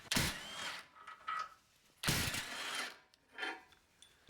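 A ratchet working on 17mm crossmember bolts under a Toyota RAV4, giving two bursts of fast mechanical clicking about two seconds apart, then a shorter softer burst, close by with no talk.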